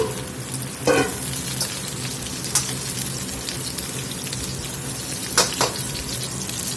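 Pork belly frying in its own rendered fat in a pan gives a steady close sizzle and crackle, with a few sharp pops and spatula scrapes standing out now and then; no one talks.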